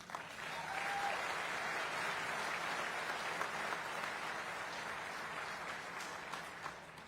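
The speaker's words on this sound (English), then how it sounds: "Give everybody a round of applause." A crowd applauds steadily at a hotel and casino groundbreaking ceremony, a continuous even wash of clapping that holds for about seven seconds with no talk over it.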